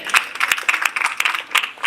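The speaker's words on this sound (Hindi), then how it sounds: "कृपया जोरदार तालियों से बच्चों का स्वागत करें।" An audience at a Marwari women's conference session in Andhra Pradesh claps to welcome children onto the stage, a short dense burst of many hands close by.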